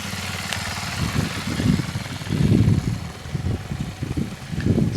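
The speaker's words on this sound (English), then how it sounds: "So she's going around in second gear, doing about 10 miles an hour." A Sachs X Road 125 motorcycle rolls slowly in second gear at about 10 mph, its small single engine giving a low, pulsing burble that rises and falls with the throttle, fairly close and steady.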